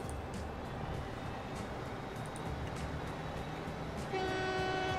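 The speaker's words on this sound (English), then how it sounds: "that train's pulled out of the station" A train in the Transport Fever simulation game rumbles steadily as it pulls out of a station, with a dense rolling rail noise throughout and a sustained horn-like tone sounding near the end.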